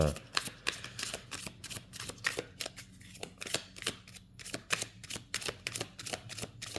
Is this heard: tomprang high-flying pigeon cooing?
no